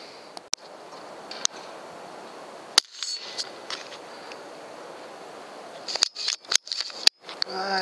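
Sharp, close air-gun-style shots fired at a rat, several isolated cracks spaced through a quiet background with a tight cluster of snaps near the end.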